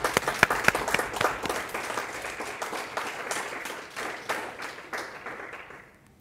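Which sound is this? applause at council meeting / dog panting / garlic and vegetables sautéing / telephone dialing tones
applause at council meeting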